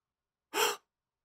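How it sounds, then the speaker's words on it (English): A man lets out a single short, breathy gasp of delight, close and clear, set against complete silence before and after. "He lets out a delighted gasp."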